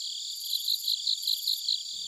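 Cricket chirps sound effect: steady, high, pulsing trills that run continuously and loud, with no voice, before cutting off abruptly at the end.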